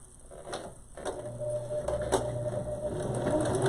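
A sewing machine stitching forward then reversing to lock a seam on a cloth face mask, a steady close mechanical whir with brief clicks and starts, rising in loudness toward the end.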